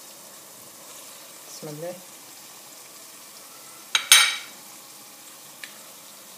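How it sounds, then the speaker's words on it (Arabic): Lamb meat and onion hit hot oil in a cooking pot with a sudden loud sizzle that quickly fades back to near quiet. A voice speaks briefly just before. "توا باش نحط اللحم يتقلى مع البصل"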